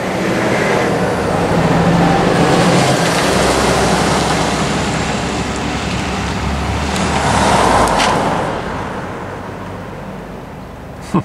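Cars pass by on a road, with a broad whooshing rise and fall of traffic noise building to a near pass before fading away.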